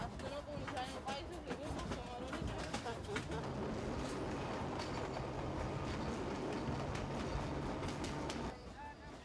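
Passenger train rolling along rails on a route toward Djibouti, a steady broadband rumble with repeated clicking rail joints and faint bird calls, continuous and fairly close, easing slightly near the end; background voices murmur faintly underneath.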